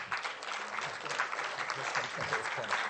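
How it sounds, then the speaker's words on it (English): Audience applause at the Beyond Brent 2020 event as a panel heads to the stage, a steady, moderately distant clapping that fills the room, with some voices mixed in underneath. "nice round of applause"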